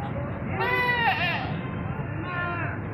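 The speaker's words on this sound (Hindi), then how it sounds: "ये है बकरी," A desi-breed goat bleats in a wavering, nasal cry, then bleats again more briefly, over a background of low murmuring voices at a bus stand.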